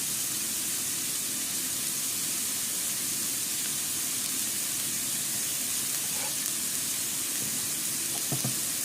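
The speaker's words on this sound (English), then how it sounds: "Now I'm going to go ahead and add my chopped onions." Chopped onions sizzling in a hot pan for fried rice, a steady loud frying hiss throughout, with a few faint clinks of a utensil near the end.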